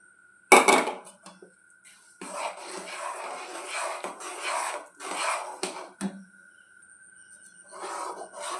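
Sugar is mixed into mango paste in a pot for mango kasundi, heard as intermittent close rubbing and scraping strokes in separate bursts, with a faint steady hum between them.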